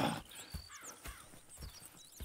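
Horses in the Red Dead Redemption 2 video game clop along with steady hoofbeats at moderate distance, accompanied by soft snorts and faint ambient birdsong, with no talking.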